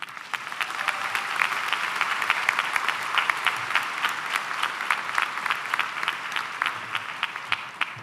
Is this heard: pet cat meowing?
no